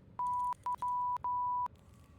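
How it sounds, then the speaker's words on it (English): Four pure electronic beep tones, steady and fairly loud, come in uneven lengths: a medium beep, a short one, then two longer ones with brief gaps between, over faint background noise. "Oh, you got the beep sound effect."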